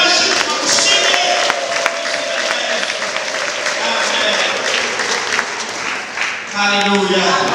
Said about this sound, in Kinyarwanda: tugukomeye amashyi tugushimiye